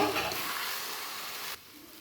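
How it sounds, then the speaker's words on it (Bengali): Boiled potatoes go into a wok and are stirred, giving a loud, steady sizzling hiss close up that cuts off sharply near the end. "এরপর আলু দিয়ে দিলাম, কড়াইতে নাড়াচাড়া করে নেব।"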